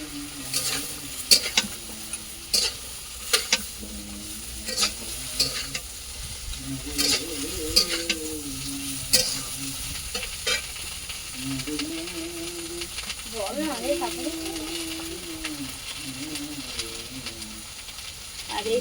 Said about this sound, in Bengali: এবার আমি এই যে কাটা সবজিগুলো আমি দিয়ে দেবো।